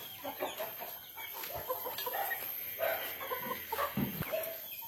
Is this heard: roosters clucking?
yes